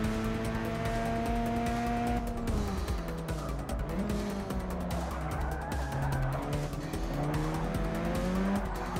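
A Mazda RX-7 race car in the Forza 6 video game, its engine droning with pitch shifting through gear changes and tires squealing in a sustained skid, loud and steady throughout.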